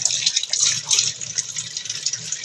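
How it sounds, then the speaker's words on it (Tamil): Tap water runs and splashes steadily as two cupped hands scoop it up to wash a face at home, close and continuous with no talk. "நல்லா ரெண்டு கையில் தண்ணி கோரி முகத்தை கழுவணும்"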